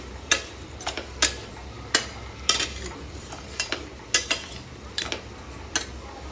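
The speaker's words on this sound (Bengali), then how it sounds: "ভালো করে নাড়িয়ে নেবেন।" Tomato and tamarind chutney with sugar being stirred in a pan, a utensil scraping and tapping against the metal in irregular light clicks over a low steady background hum.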